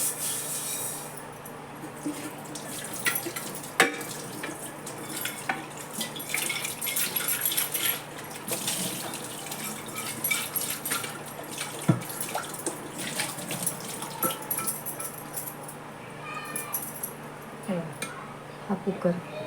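Tap water runs steadily over a pressure cooker cleaned with Pitambari powder, with rubbing and splashing during rinsing and someone speaking at times.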